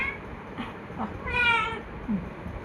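A pet cat that has been sick with fever for two days lets out a few close, wavering meows, with one longer, louder cry in the middle against a quiet indoor background.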